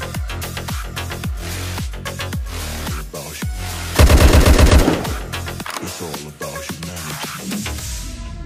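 AUG rifle fire from the video game Bullet Angel crackles in quick bursts of sharp, close shots, with a dense rapid volley in the middle and scattered single reports around it.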